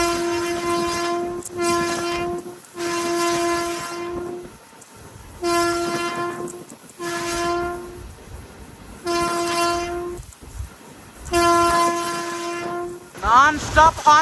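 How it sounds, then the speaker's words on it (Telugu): A train horn blares in long, repeated blasts almost without pause, loud and close, on the Tirupati–Villupuram Express heading toward Tiruvannamalai, with rail noise between the blasts. "Non stop Hawking."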